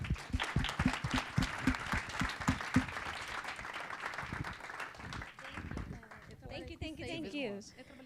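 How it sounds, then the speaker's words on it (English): Audience applause for forum panelists at a plenary session, a dense burst of clapping that fills most of the stretch and thins toward the end as a voice begins speaking. "please, a round of applause for these guys"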